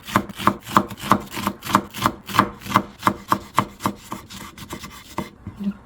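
Knife chopping rolled green onion on a cutting board, a steady series of about twenty crisp, close taps at an even quick rhythm, with no talking.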